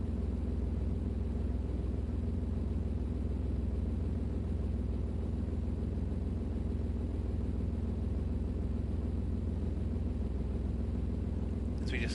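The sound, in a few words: rumble of a Ferrari engine in Gran Turismo Sport, video game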